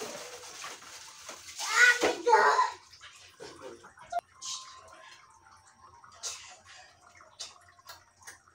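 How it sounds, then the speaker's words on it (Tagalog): Water poured into tomato sauce in a cooking pan gives a short, loud splashing gush early on, then fades to scattered drips and small clinks while someone talks. "So, dagdagan ko ng water."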